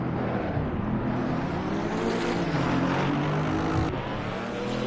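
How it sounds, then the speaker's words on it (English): An HSV GT4 race car in Assetto Corsa Competizione launches off the line at Laguna Seca, its engine roaring and climbing in pitch through a gear change, loud, steady and alone. "So the HSV lights it up off the line there."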